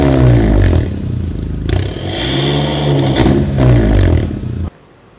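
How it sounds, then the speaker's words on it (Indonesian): A Honda Civic turbo engine revs hard through an aftermarket exhaust, rising and falling in a few loud throaty surges before cutting off abruptly into near silence. "tadi sudah dilihat bagaimana suara dari mesin ini yang dikeluarkan oleh knalpot"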